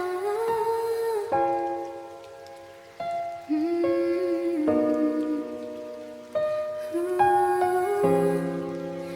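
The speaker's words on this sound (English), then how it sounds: "Soft rain, faint piano." Soft, steady rain falling at night, a gentle hiss running beneath faint echoing piano notes and sustained musical tones throughout.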